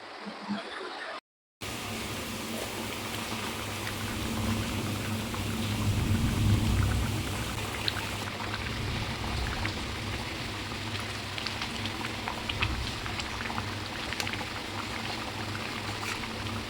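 Chicken and drumstick gravy bubbles in a pot, a steady crackling simmer that runs on for about sixteen seconds after a brief dropout near the start, swelling slightly midway.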